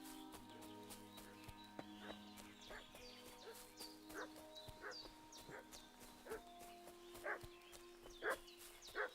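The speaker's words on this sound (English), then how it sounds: "What's that dog making such a fuss about?" In the medieval Bohemian village world of the video game Kingdom Come: Deliverance 2, a dog barks in repeated sharp bursts at a moderate distance, heard over a low ambient drone with faint hoof-like clopping.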